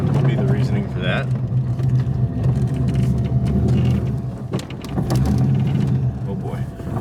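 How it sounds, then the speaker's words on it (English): An LS1-swapped BMW Z3 idles and runs with a steady, deep rumbling hum from transmission vibration, loud and close, with voices talking over it throughout. "Huge vibration coming from the transmission. Yeah, it's like a big hum."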